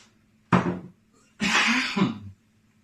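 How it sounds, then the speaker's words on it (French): Two close coughs from one person, the first short and sharp, the second longer and rougher, with quiet between them. "j'ai toussé dans mon coude"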